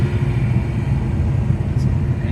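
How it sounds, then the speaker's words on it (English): HSV E40 V8 in a VZ with a 6L80 automatic, decelerating off the throttle through a commanded downshift; steady low engine and road rumble heard from inside the car, even and continuous. "So decelerating, commanded a downshift,"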